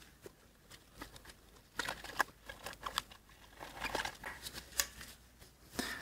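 Scissors or cutters snip through the throttle heater coolant line on a BMW E36. A series of faint, sharp, close cuts and clicks arrive at irregular intervals over a quiet background.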